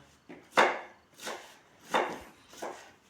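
Four steady knife chops through soft purslane leaves on a cutting board, each a crisp thud with a short rustle, close and fairly even in rhythm.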